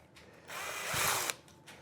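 A countersink bit grinds into a screw hole in soft wood at a workbench, one short burst of whirring and cutting that swells and then stops abruptly, close by and alone.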